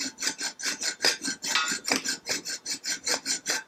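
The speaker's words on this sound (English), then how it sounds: "I'm going to cut them off so they're not sticking out for miles. For which I'm just going to use a hacksaw." A hand hacksaw cuts through Citroën 2CV pushrod tubes in a workshop. Quick, even back-and-forth rasping strokes repeat steadily, close and alone, about a dozen strokes in a few seconds.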